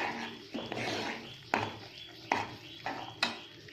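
A spoon stirs jaggery into a banana flower dish in a pot, with soft scraping and several sharp clinks of metal against the pot at an uneven rhythm.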